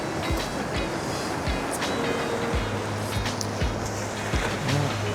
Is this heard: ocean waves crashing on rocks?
yes